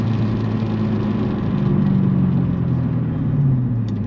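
A 15-year-old Roush P-51A Mustang muscle car rumbles along with a steady, low engine drone and road noise, heard from inside the car with no talking.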